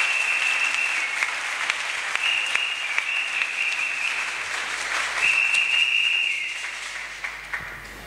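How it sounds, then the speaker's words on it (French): Church congregation applauding at a service in Moanda: steady, dense clapping from a crowd fills the whole space, with a faint whistle and a brief voice, tapering slightly at the end. "acclamez très fort"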